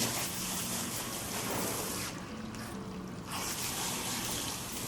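Running water pours steadily from a tap while a child's hair is washed, a soft continuous rush with a brief dip midway, heard alone without talk.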